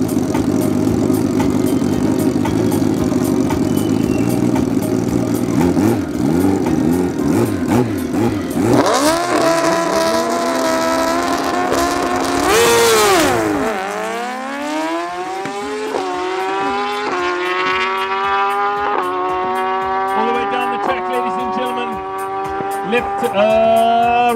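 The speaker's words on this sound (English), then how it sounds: "our booster turbo versus normally aspirated BM on the left" A turbocharged car and a naturally aspirated BMW drag racing at Midvaal Raceway, engines roaring loud and steady, then rising in pitch through repeated gear-change revs as the cars pull away.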